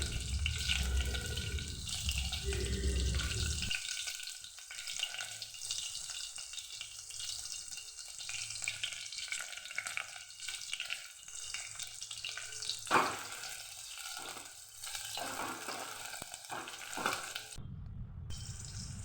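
Chillies and onions frying in a pan for brinjal curry, a sizzle that starts loud and fades into a softer continuous crackle, with light stirring and clinks along the way.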